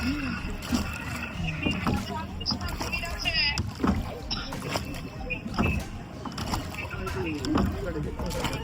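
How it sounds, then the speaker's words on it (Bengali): A wooden rowing boat on the river at Bhedaghat makes soft, rhythmic oar splashes and water sloshes throughout, with voices talking nearby over the outdoor ambience. "দাঁড় টানা নৌকার ছপছপ শব্দে"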